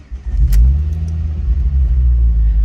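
A warm Ford Focus ST225 with an ABS fault idles close by, a steady low rumble with a slight rise in revs near the start and faint clicks overhead.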